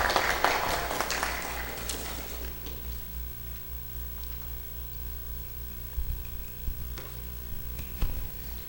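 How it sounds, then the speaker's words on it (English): Audience applause at a Shia American activism conference in Maryland, loud and dense for the first two seconds, then quickly fading to a low room hum. "I would ask you to welcome him with a loud round of applause"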